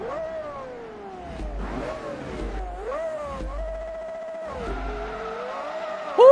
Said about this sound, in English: It's the fact that that engine just spins up so quick